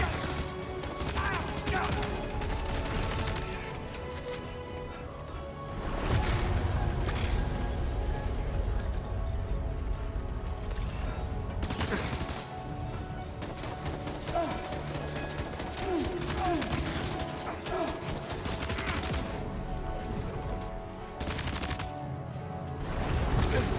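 Gunfire in the Death Stranding 2 video game, with repeated shots and bursts crackling over a dense game soundtrack and effects, loud and sustained throughout with occasional crashes.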